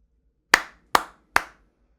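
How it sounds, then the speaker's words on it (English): Three sharp hand claps ring out close to the microphone at an even, unhurried pace, each followed by a short room decay, with silence before and after. "Those are my 3 claps."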